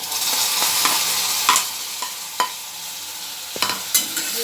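Sliced bitter gourd frying with onions in a hot pan, a steady close sizzle broken by several sharp scrapes and clinks of a spoon stirring against the metal, with no voices.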